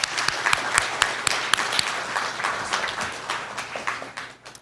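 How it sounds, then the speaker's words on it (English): A crowd at a fine arts awards show applauds with sharp individual claps standing out at first, then the clapping thins and fades away. "A round of applause."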